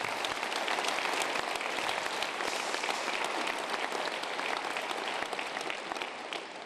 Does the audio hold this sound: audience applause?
yes